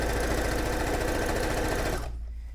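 A sewing machine runs a straight seam with a rapid, even mechanical chatter of needle strokes, close and steady for about two seconds before it stops abruptly, leaving a faint hum.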